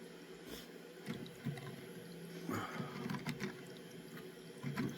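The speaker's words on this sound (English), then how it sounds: "I'm using my gold saver pan just to have the dirt and water in it." Dirt and water sloshing around in a gold saver pan at a river, a soft continuous watery swish with small splashes rising and falling throughout.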